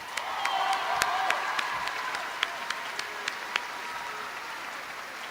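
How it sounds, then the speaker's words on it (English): A graduation crowd at the Dixie Heights High School 2022 ceremony applauds. A distant, moderately quiet wash of clapping thins out over five seconds into scattered individual claps, with a few cheers mixed in. "can we give him a big round of applause?"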